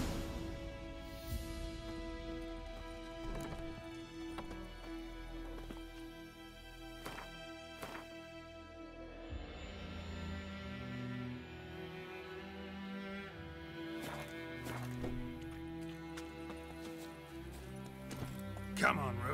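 Horse hooves clip-clop at a trot in The Witcher 3 video game, a regular rhythmic beat that is close and clear, with occasional whinnies and game music layered over it.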